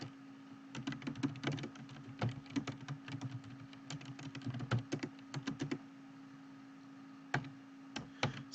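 Computer keyboard typing, with quick irregular bursts of light key clicks at close range over a low steady hum, then a pause and a few scattered taps.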